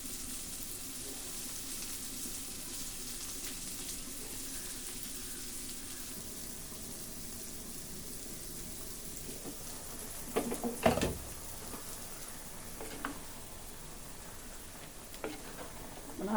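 Aviyal, the Kerala vegetable curry, simmering with a soft continuous sizzle in a pan, then a few scraping stirs and utensil knocks later on; no voices.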